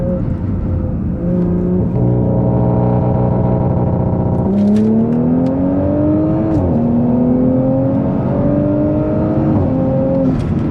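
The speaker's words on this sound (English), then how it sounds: "And that was a good pull right there with rolling anti-lag" A B9.5 Audi S4 with rolling anti-lag accelerates hard, heard from inside as a loud engine note climbing steadily in pitch, dropping briefly at each quick gear change before rising again.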